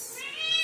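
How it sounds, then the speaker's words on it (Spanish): A single short cat meow, clear and fairly close, rising slightly in pitch, heard alone without talk. "Bueno, ahí está mi gata."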